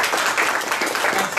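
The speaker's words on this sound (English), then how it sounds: "So please help me welcome them and give a big round of applause." Brief, steady audience applause at a university medical school admissions event, a dense wash of many hands clapping at moderate volume.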